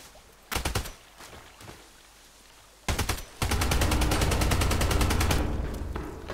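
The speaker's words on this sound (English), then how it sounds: "Who's shooting me?" Bursts of gunfire in the video game Contract Wars during a night sniper match on the Lighthouse map: a short burst, a quieter lull, another burst, then a long sustained automatic volley that fades near the end.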